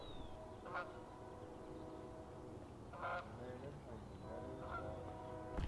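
Geese honk faintly in the distance outdoors, a few separate calls spaced a second or two apart over a steady background hiss.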